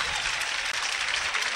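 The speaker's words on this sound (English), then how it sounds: "The Rummel sideline claps for him appropriately" Sideline crowd at a high school football game between Brother Martin and Archbishop Rummel claps steadily and loudly for an injured player walking off, a dense wash of applause with no one speaking.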